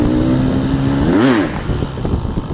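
A motorcycle at the Prabu Motor used-vehicle dealership in Ponorogo gives one sharp, close rev that climbs and falls back, over a steady idle and background clatter.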